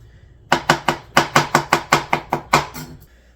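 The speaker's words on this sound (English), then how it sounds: "So got my mushrooms here. Just give them a quick slice." A knife slices through mushrooms on a cutting board in a quick, even run of about fourteen crisp, close chopping taps, with no talking.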